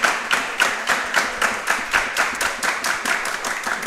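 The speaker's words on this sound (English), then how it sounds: "let's give a round of applause to the coaches for the fine work that they do" A round of applause for the Georgetown football coaches on a coaches show, with steady rhythmic clapping from a small group lasting a few seconds.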